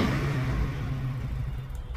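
Low, steady idle and rev of a Regal Raptor cruiser motorcycle engine, a continuous close rumble that holds throughout, with no voices.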